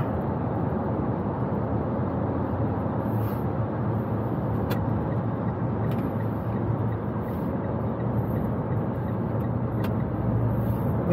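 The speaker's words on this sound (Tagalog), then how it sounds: "maganda ang daloy ng trapiko dito sa may kahabaan ng Al Khail Road" Steady road traffic flows along Al Khail Road in Dubai, a constant broad roar of passing cars and heavy vehicles heard from inside a moving vehicle, with a few faint sharp ticks and no voices.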